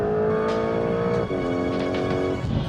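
A 2025 Porsche 911 Carrera GTS engine revs hard in Sport Plus mode on a Western Cape road, loud and close, with a sustained high rising note, a brief dip near the middle, then a climb again.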